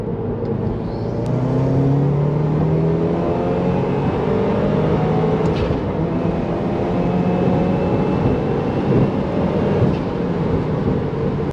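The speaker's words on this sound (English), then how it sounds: "So I'll go ahead and do our third gear pull here." A tuned flex-fuel Subaru WRX doing a third-gear dyno pull, its engine droning loudly and rising steadily in pitch as revs climb, a continuous close roar with a brief whine near the start and no talking.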